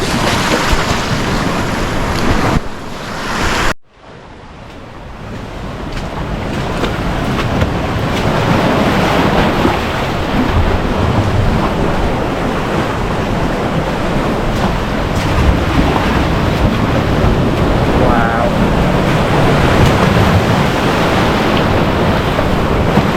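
Ocean waves break and roar continuously on the rocky shore of Uluwatu beach in Bali, loud and close, with heavy wind buffeting the microphone and a brief dropout early on.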